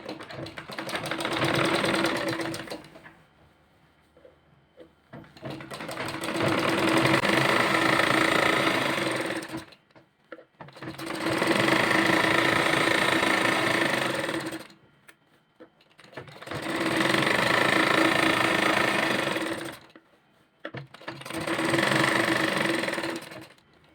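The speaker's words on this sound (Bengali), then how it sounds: "মাঝখান দিয়ে আরেকটা সেলাই দিয়ে নিতে হবে" An electric sewing machine stitches elastic into a salwar waistband, running in four long steady whirring bursts separated by short pauses, close up and with no talking.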